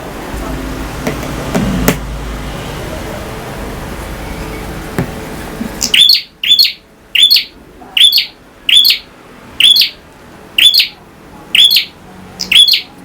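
A caged prenjak (prinia) songbird gives a loud, close series of repeated chirping phrases at an even rhythm after a quieter stretch of background noise.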